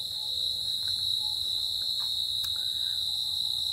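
Crickets chirp steadily and continuously through an autumn night, a dense, even insect drone close by with no talk.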